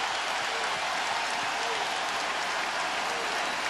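A basketball arena crowd cheering at a 2004 Rockets home playoff game against the Lakers, a dense continuous roar at steady volume throughout.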